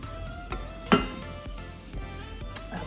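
A spoon scrapes and clinks against a pot while casserole ingredients with sour cream and apple cider vinegar are stirred together, a few sharp metallic taps standing out over a quiet low hum.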